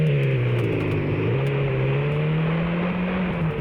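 A classic Czech-built Skoda 120 from the 1970s or 80s, with its engine mounted in the rear, drones steadily while driving. The low engine hum holds close and continuous, with slight shifts in pitch as it runs.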